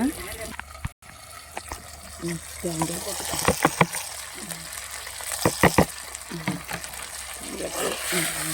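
Garlic and coconut sauté in a pan for a chutney, a soft steady sizzle broken by scraping stirs and clinks of a spoon against the pan.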